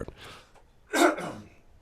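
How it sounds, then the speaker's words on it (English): One harsh, rasping throat clear close to the microphone, a brief burst after quiet breathing, then trailing off. "hold on, I gotta clear my throat"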